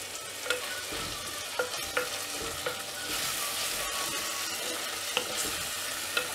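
Tomatoes and coriander sautéing in a clay mud pot, a steady close sizzle broken by periodic ladle scrapes and taps, no talking.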